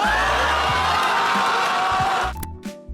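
A loud crowd at a rap battle roars and cheers in a sustained burst, with whoops rising over the noise before it cuts off abruptly near the end.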